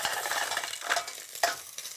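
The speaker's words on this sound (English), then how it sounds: "it's all about flash frying them and opening them as fast as possible" Mussels flash frying in hot olive oil with garlic and chilli, a steady close sizzle with stirring and a couple of sharper hissing bursts as more shellfish hit the pan.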